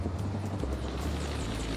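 Helicopter working on a logging operation, a steady low rotor throb and engine drone at moderate distance, without speech.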